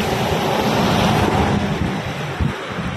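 Steady roar of wind and surf out at sea, heard from a boat on open water, with a broad continuous rush and a brief louder gust near the end, no voices.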